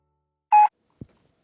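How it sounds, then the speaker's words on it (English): A telephone gives a single short electronic beep in near silence, followed by a faint soft thump. "In there, whoop, that's a phone."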